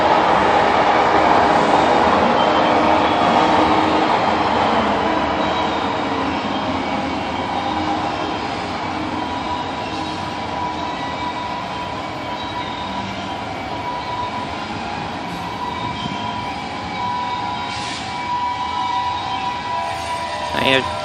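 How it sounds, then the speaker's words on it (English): A full-speed coal train passes during a lightning storm with a loud, continuous rumble, rattle and clatter of wagons that slowly fades a little. Faint voices sit beneath it. "it's a full speed coal train probably"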